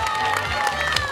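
A crowd claps and cheers for the first woman finisher of the 10 km race at the 10th Lefkada Green Half Marathon in 2022, a brief, steady burst of outdoor applause with voices mixed in.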